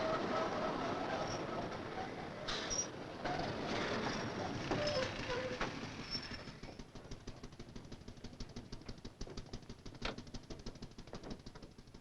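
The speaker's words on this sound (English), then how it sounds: "The train from Manhattan to Malvern, Long Island, a typical commuter train town." Commuter train running from Manhattan to Long Island, heard as a steady loud rumble of rolling cars with rail clatter, fading slightly into rhythmic clicking wheels over the second half.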